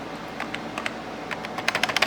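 Keys clatter on a Motorola StarMax 3000/200 computer keyboard in a burst of sharp, close clicks that start sparse and grow quicker and louder toward the end, with no voices.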